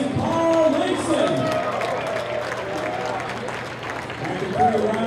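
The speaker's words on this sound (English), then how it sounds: "Nice round of applause once again for Munoz and Carl Langston" A crowd at a Combat Zone 49 fight event applauds the two fighters, a broad wash of clapping and cheering running beneath a ring announcer's amplified voice throughout.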